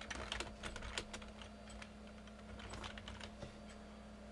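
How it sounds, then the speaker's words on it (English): Quick typing on a computer keyboard, a run of light, irregular key clicks with a few sharper taps, quiet and close, with no voices. "I'm just going to type in something quickly here."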